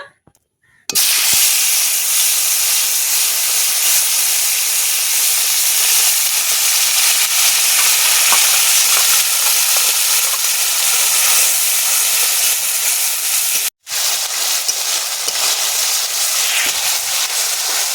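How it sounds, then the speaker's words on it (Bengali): Ginger, garlic and onion paste frying for chicken curry, a loud steady hiss lasting nearly the whole time with only one brief break, close up and with no talking. "আদা, রসুন, পেঁয়াজের পেস্টটা ভালো করে কষিয়ে নেব, কাঁচা গন্ধটা চলে যাওয়ার জন্য।"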